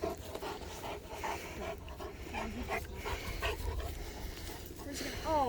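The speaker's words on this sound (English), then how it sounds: "Oh, you're a bad dog." A dog being scolded for rough play at home pants and whimpers close by, with quick breathy bursts and a few thin high whines near the end, under a noisy background with some rustling.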